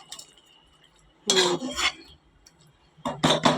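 A spoon scrapes and clinks around a pot while Bombay duck (lote) fish curry is mixed, two short bursts of stirring with quiet gaps between them.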